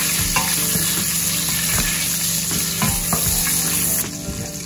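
Cinnamon stick, cloves, cardamom and bay leaves fry in hot oil in a pan, a loud, dense, continuous sizzle with soft stirring taps that drops slightly in volume near the end.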